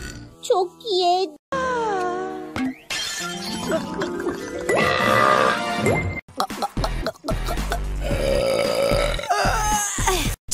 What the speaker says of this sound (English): You just won the burping contest, too!